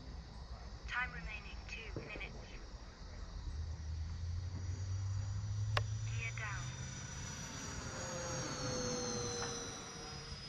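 An E-flite A-10 Thunderbolt II 64mm electric ducted-fan RC jet makes a gear-down pass, its whine swelling and fading at moderate distance under intermittent distant voices.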